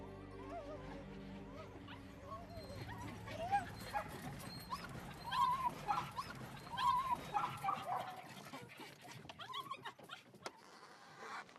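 Small ratting dogs on a rat hunt at a chicken farm bark and yip excitedly in quick, uneven bursts with some whimpering, close and fairly loud over outdoor noise and faint background voices.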